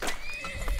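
A horse neighs once in the oil tycoon game Turmoil, a short, loud whinny with faint hoof clip-clop close up.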